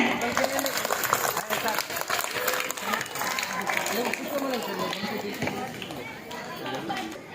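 Dense, continuous clapping from a crowd, steady and fairly even throughout, with faint chatter mixed in.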